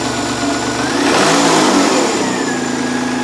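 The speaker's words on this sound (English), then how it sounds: "Before when I revved it up, it did stay higher than it's supposed to for longer." A Citroen XM 3.0 24V engine revs up from idle, the pitch climbing and holding high for a moment before settling back down, loud and close with no talking.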